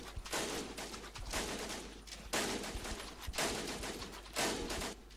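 Machine gun fire in the World War I shooter No Man's Land, coming in repeated bursts of rapid shots, each lasting about a second, separated by short pauses, loud and close.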